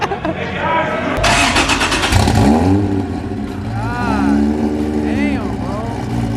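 A Nissan Skyline using 2-step launch control at a car meet, its engine revving hard and loud with rapid popping bursts, among crowd noise and voices.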